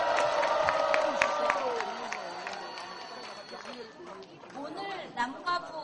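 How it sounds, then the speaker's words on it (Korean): A crowd at a national reunification rally applauds and cheers after a performance, a busy, fading mix of clapping, voices and chatter that thins out toward the end. "다시 한번 힘찬 박수 부탁드립니다."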